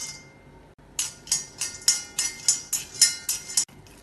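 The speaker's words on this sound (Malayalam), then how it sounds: "ഇനി അടുപ്പത്തൊരു ചീഞ്ചട്ടി വെച്ച് ചൂടാക്കി ഇതിലേക്ക് ഒരു 2 ടേബിൾ സ്പൂൺ നിലക്കടല ഇട്ട് വറുത്തെടുക്കാം." Two tablespoons of peanuts roast in a hot iron wok, with about ten sharp, rhythmic rattling clinks as they are tossed, fairly close and without talk.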